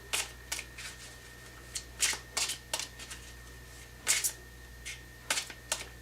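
Tarot cards being shuffled by hand to draw a single card, a run of crisp papery riffles and soft slaps coming in irregular bursts, close up and fairly quiet with no voices.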